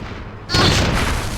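A cannon fires in the video game Enclave Light, a single loud boom arriving abruptly after a quiet stretch and leaving a sustained rumbling tail.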